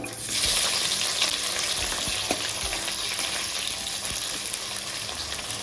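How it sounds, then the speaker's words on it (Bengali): Black cumin and chopped onion fry in oil in a wok, a loud continuous sizzle close by with occasional stirring knocks and clicks, with no talk. "এখন আমি ফোড়নে দিয়ে দিচ্ছি কালো জিরে দিচ্ছি পেঁয়াজ কুচি"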